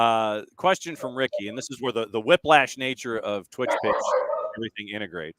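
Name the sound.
dogs barking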